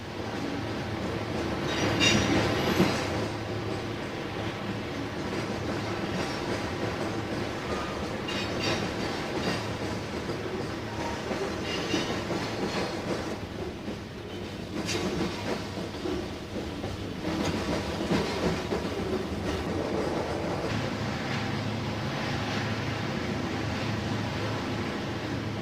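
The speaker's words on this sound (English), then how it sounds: "train number 75, the Duquesne, approaches on the westbound main. An eastbound freight also moves out from Tunnel Hill." A Pennsylvania Railroad passenger train, the Duquesne, runs on the westbound main near Tunnel Hill while an eastbound freight moves out, a long continuous rolling rumble with clickety-clack of wheels and occasional squeals, moderately distant.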